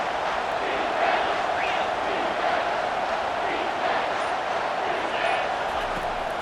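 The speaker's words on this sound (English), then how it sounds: "This crowd rising up, sensing that its defense needs some help." A college football stadium crowd at TCU vs. UCLA roars steadily as it rises behind its defense, a loud, dense wash of cheering that holds throughout without a break.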